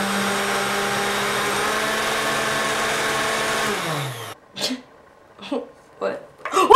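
A home blender whirs loudly and steadily for about four seconds while making a smoothie, then winds down and cuts out, leaving a few short vocal sounds and breaths in the quiet.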